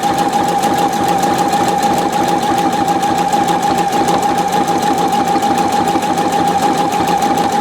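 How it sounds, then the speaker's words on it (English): A Pfaff 720 sewing machine stitches buttonholes in thick wool with a loud, fast, steady mechanical rattle and a constant motor whine. "It's not really surprising if the machine has a little bit difficulty to work with it."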